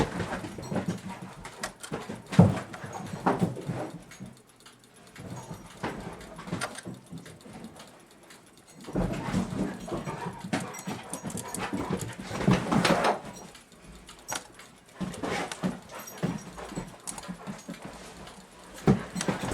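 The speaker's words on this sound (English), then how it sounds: "Puppies, man, they play and play and play." Puppies play together in an indoor room, with scuffling, panting and occasional whimpers and yips coming in uneven bursts at close range.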